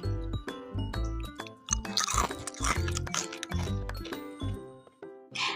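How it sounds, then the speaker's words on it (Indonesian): Crispy eggless kuping gajah (elephant ear) cookies crunch loudly and close up, in a rapid series of sharp bites and chews with no talking. "Sekarang kita coba dengerin dulu ya untuk kerenyahannya seperti apa."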